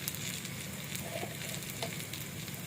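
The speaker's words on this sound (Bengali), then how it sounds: "এখন আমি দিয়ে দিব 1 চামচ হলুদ গুঁড়া, 1 চামচ ধনিয়া গুঁড়া, 1 চামচ জিরা গুঁড়া," Turmeric, coriander and cumin powders going into garlic paste frying in a pan, a faint, even sizzle with a soft hiss and light spattering throughout.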